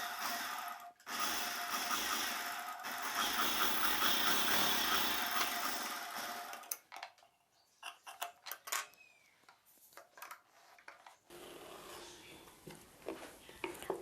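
A sewing machine stitches a patch piece onto blouse lining, running in a long steady burst, then falling into short stop-start bursts with handling noises, followed by a lower hum near the end.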